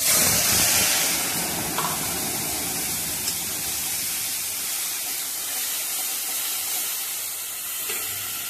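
Onion, garlic, green chillies and coriander paste sizzle loudly in hot oil, a dense continuous hiss with faint stirring clinks, close and steady with no voices.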